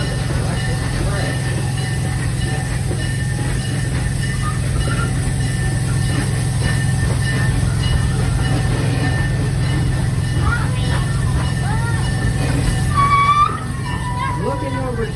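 Steady low rumble of the Serengeti Express ride train at Busch Gardens Tampa Bay rolling along the rails, with occasional faint squeals and a voice talking over the noise.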